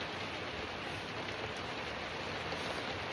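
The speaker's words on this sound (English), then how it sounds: "So it's really hammering it down now with the rain." Heavy rain pours down outside, heard from indoors as a faint, even, unbroken hiss with no other sounds.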